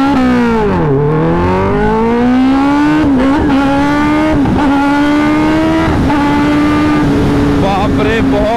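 A Kawasaki ZX-10R motorcycle launches under launch control on a rough road, its loud engine screaming upward through the gears with sharp rising revs and brief dips at each shift, close and continuous, with a rider's voice briefly over it.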